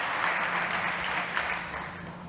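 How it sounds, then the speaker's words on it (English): An audience at a startup competition applauds the judges, with steady, moderately loud clapping lasting throughout and no voices over it. "Okay, big applause."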